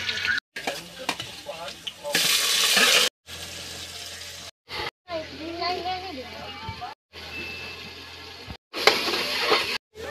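Cumin, mustard seeds, onion and ginger sizzling in hot oil for khichdi, a steady frying hiss broken by short gaps and stirring sounds, with people talking over it.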